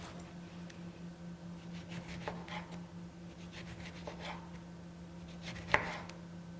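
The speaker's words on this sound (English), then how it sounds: "We're just gonna cut the end of the lemon off." A knife cutting the end off a lemon on a board, giving a few soft quiet chops and scrapes over a low steady hum, ending in one sharper thud, with no talking.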